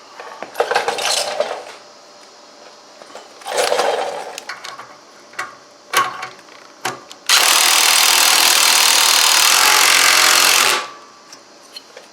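Wrench and metal clatter while a bolt is tightened on the muffler of a DR leaf vac: a few short ratcheting bursts and clinks, then a sustained loud hiss-like whir of a powered tool for several seconds.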